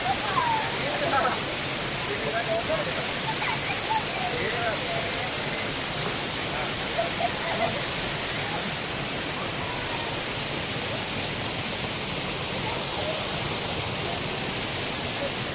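Steady, full rush of a forest waterfall at Maredumilli, Andhra Pradesh, fills the whole clip, loud and close, with faint voices briefly audible early on.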